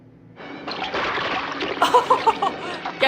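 Loud water splashing and sloshing under broken ice in a film scene, a steady churning rush with brief gurgles and splats building toward the end, with a voice in the background.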